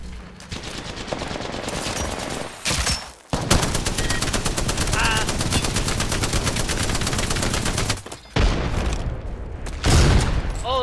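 Heavy bursts of automatic gunfire and a blast from a grenade in the Apex Legends battle-royale game, loud and nearly continuous with brief pauses and a heavy boom near the end.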